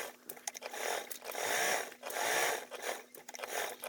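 Domestic sewing machine stitching a long basting seam about 1/8 inch in from the edge on the lining side of a vinyl duffle bag, running in bursts that swell and ease, close and steady, with no talk.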